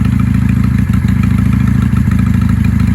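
A 1995 Honda Shadow 600 VLX motorcycle engine runs steadily up close, a loud, throbbing low idle with a rhythmic pulse and slight mechanical clatter throughout.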